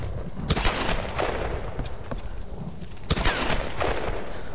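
Loud gunshots burst out in Tomb Raider Definitive Edition, a sharp volley near the start and another near the end, each followed by ringing echo and combat ambience between.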